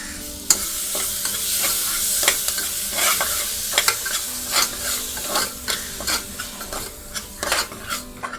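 Red masala paste stir-fries in a pan, a spatula scraping and tapping in an irregular rhythm over a continuous sizzle, up close with no voices.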